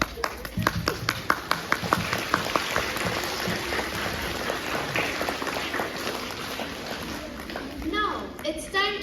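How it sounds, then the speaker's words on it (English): Audience clapping at a Class 5 school assembly, starting with a few distinct sharp claps that blend into a steady patter of many hands, with voices and chatter mixed in underneath. "Big applause for Dilpreet and Shaurya"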